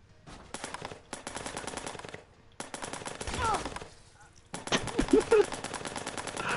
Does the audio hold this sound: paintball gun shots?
yes